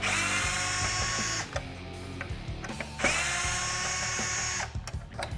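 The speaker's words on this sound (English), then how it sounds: "Now to get to the blind spot sensor, we need to remove these 2 Phillips screws." A power drill backs out two Phillips screws on a Jeep Wrangler JL, giving two sustained high whining runs separated by a short pause, close and clear, with small clicks as each screw releases.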